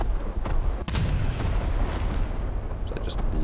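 Naval artillery salvo of HE shells fired from a warship in War Thunder, heard as a dense, continuous rumble of booming gunfire with one sharp crack near the start, loud and sustained throughout.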